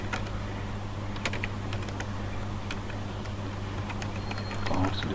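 Keys clack on a computer keyboard while someone fills in a data entry form in Excel, in sparse irregular taps over a steady low hum, close and fairly quiet.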